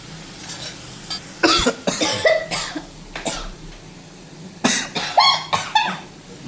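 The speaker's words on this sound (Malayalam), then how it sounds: "കുഞ്ഞവിടെ ഇരുന്ന് ചുമക്കുക." A child coughs repeatedly in clustered fits, near and fairly loud, reacting to chilli fumes from raisin pickle cooking in hot oil, with quiet kitchen background between bursts.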